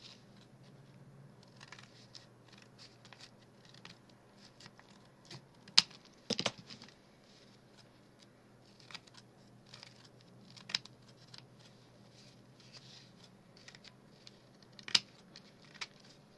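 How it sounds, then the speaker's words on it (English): Scissors snip along the edges of fabric on a handmade children's purse during sewing, sounding as sparse, sharp close clicks over a quiet room hum, with a few louder cuts spaced several seconds apart. "I just little bit cut these edges"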